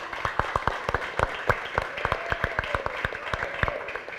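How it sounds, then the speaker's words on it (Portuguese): A small assembly audience claps for a newly elected board at an ordinary general meeting, with sparse, distinct hand claps at an uneven rhythm, fairly close and moderately quiet, with no talking over them. "Gente, uma salva de palmas para essa diretoria eleita."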